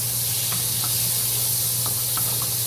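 Oil and butter sizzle in a pan as a spicy chicken liver dish begins cooking: a steady close hiss with a few faint clicks and pops, under a low electrical hum, with no talking.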